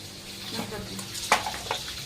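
Ridge gourd and stuffed chillies tempering in a hot pan, a soft sizzle and frying hiss with stirring scrapes and a sharp utensil clink, close by.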